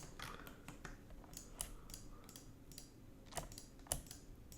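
Computer keyboard keys and mouse clicks from a desk setup running CLO 3D garment software, a quiet series of sharp, scattered clicks with a few louder taps, no talking.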